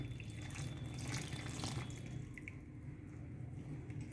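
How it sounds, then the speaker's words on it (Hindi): Melted jaggery is strained and poured into bajra flour and sesame mathri dough as a faint, steady trickle of liquid at close range. "ये हमने पिघलाया था गुड़, इसको हम छान के डालेंगे"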